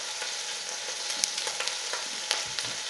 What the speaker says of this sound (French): je vais me mettre à rôtir le rôti sur toutes les faces